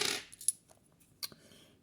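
2 euro coins being unpacked from coin rolls clink and tap in a few scattered, sharp metallic hits, quiet and close.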